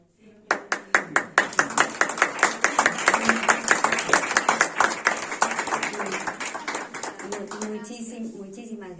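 Audience at a conference on regression clapping in a fast, distinct rhythm that builds and holds for several seconds before thinning out, each clap crisp and separate, close and moderately loud.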